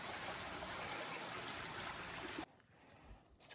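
A mountain stream on the Pacific Crest Trail, the last water source for miles, rushes in a steady close wash of water that cuts off abruptly, leaving near silence and a few faint knocks.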